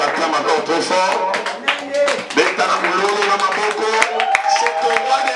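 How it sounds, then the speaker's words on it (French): Church congregation applauding loudly and continuously, a dense crowd of clapping hands mixed with cheering voices and indistinct shouts throughout. "on acclame encore très fort"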